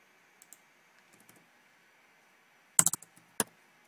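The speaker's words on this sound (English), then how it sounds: "here I'm just typing" Typing code on a computer keyboard in Android Studio: a few soft scattered keystrokes, then a louder quick cluster of clicks and one more sharp key press, close and alone in a quiet room.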